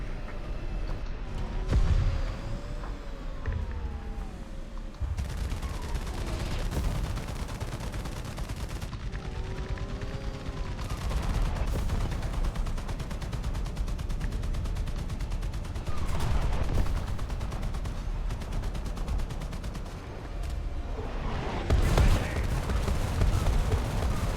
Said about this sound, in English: Artillery barrage on its way.